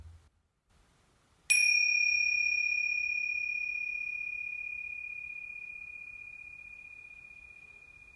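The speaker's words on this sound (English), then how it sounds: "just like this tingsha bell I'm going to ting here now" A small Tibetan tingsha bell struck once after a brief near-silence, ringing a bright, pure sustained tone that slowly decays over several seconds toward silence.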